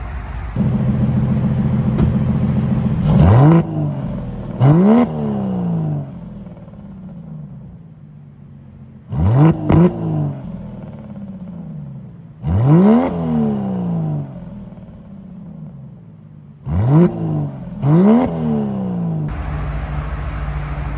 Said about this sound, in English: I'll put an exhaust clip for you guys so you guys can hear it.